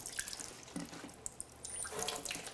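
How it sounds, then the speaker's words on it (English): Faint water from a kitchen tap splashing over lettuce leaves as they are rinsed, soft irregular trickles and drips close by, with no talking. "And I just give them a nice little rinse"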